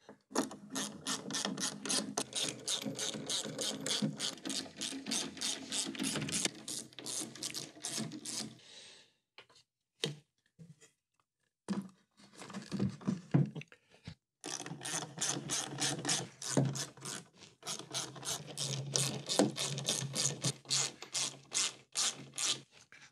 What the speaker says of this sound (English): Now I can just bolt it in.